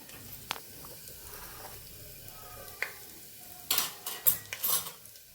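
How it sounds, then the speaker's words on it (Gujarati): Mustard seeds and cumin splutter in hot oil in a quiet pan, giving sporadic soft pops and crackles. A cluster of louder, sharper snaps comes toward the end. "રાઈ જીરું આપણે સરસ ફૂટી ગયા છે"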